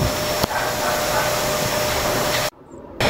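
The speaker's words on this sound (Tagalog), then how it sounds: "Gustong gusto niya yung malakas na hangin ng blower." A pet grooming blower drying a thick-coated dog at Pet Express roars loudly and steadily, cutting out abruptly near the end before restarting.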